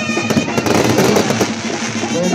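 Fireworks and firecrackers crackle in rapid, dense bursts at an outdoor religious festival of the holy crosses, loud and close, with voices and a brass-band tone faintly underneath.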